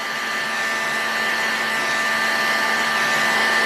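A heat gun blows continuously with a steady airy roar and a thin whine as it heats the case of an OS 91 FX model engine to free a bearing. It is close and constant, with no talk.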